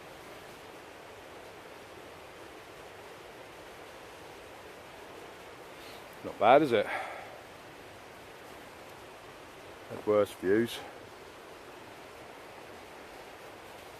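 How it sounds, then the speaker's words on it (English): Steady broadband rush of a river flowing in a snowy countryside spot near Bansko, Bulgaria, constant and close, with someone briefly speaking twice over it. "It's nice to be by the river."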